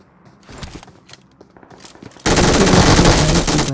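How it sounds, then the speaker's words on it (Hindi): An MG3 machine gun fires in the mobile battle-royale game PUBG Mobile. Quiet game noise opens, then a loud, sustained burst of rapid automatic fire fills the second half. "अब मैं यहाँ पर MG3 को जैसे ही रिलोड करता हूँ ना,"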